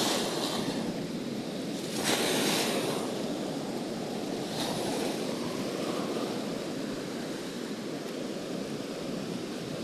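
Strong ocean surf on a shoreline fishing trip roars in a continuous broadband wash, with brief louder surges as waves break, mixed with wind buffeting the microphone.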